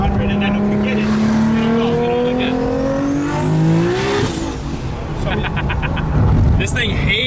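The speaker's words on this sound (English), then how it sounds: "This thing hazes the tires, bro." An 1100-horsepower RB26-powered R32 Skyline GTR, all-wheel drive and running nitrous, roars at high revs while hazing its tires, a loud sustained engine scream with rising pitch, with people talking over it.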